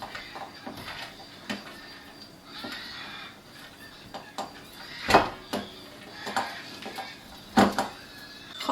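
Cheese rubbed on a coarse grater in a kitchen, giving irregular scraping strokes and sharp clacks of the grater against a dish, close and fairly loud, with quieter rustling between the strokes.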